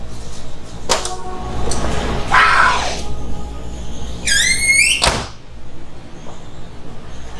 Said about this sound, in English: you can open the door